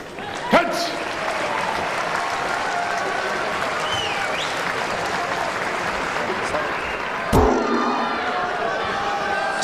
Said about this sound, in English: And listen to that crowd